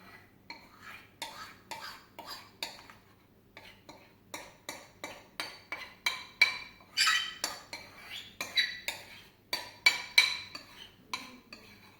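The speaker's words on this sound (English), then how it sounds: "But I'm just gonna use a big spoon" A big spoon scrapes and clinks inside a mug of chocolate brownie batter, a run of sharp, uneven metallic strokes with short pauses, close and fairly loud, no talking.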